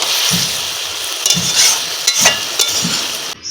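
Dain fish sizzles loudly in hot oil in a pan, a dense, steady crackle up close with a few soft stirring knocks underneath.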